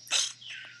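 Cartoon bird chirps from the Angry Birds video game, a bright squawking call followed by a softer, falling tweet, short and clear with no talking.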